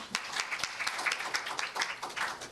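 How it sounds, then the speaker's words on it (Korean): Scattered clapping from a modest audience at a science policy seminar opening, uneven and moderately quiet, with a few distinct claps standing out. "박수로 맞아주시면 감사하겠습니다."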